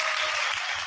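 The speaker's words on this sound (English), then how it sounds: "We got to give him some applause for that." Applause from a crowd, a dense, steady patter of clapping that runs throughout, during a sports talk show.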